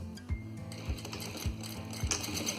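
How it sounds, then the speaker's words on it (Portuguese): A sewing machine runs a test seam on a scrap of fabric. It gives a steady, close mechanical whir with a regular thumping pulse, and no one speaks over it. "você pode passar uma costurinha no retalhinho para fazer o teste e medir se realmente está ficando com meio centímetro a sua costura"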